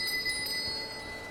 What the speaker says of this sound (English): these stakes in the ground have little bells and chains attached to them. They make a little tinkling noise as you walk by